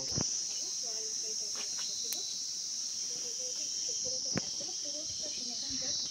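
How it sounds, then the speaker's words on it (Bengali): Crickets chirp steadily outdoors near the Rabdentse ruins in Pelling, West Sikkim, a continuous high shrill drone running through the whole stretch, with faint scattered bird calls and light background activity beneath. "ঝিঝি পোকা ডাকছে।"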